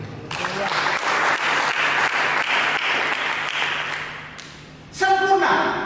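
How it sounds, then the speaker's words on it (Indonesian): A church congregation claps together after a sermon, with steady applause swelling then fading over several seconds before a voice and music come in at the end. "Mari kita berikan tepuk tangan."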